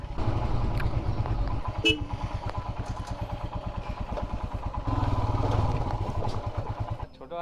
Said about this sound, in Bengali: ট্র্যাক্টর চলে যাচ্ছে